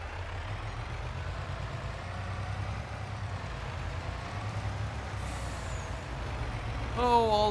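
A truck in Farming Simulator 22 rumbles with a steady low engine drone throughout, ending in a short burst of beeping tones at the close, with no talk over it.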